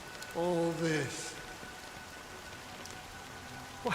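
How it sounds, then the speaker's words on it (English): Steady rain falls in a Honkai Star Rail game scene, a soft continuous wash running under the whole stretch while a voice speaks briefly near the start, with a faint tone held in the background. "it's still raining"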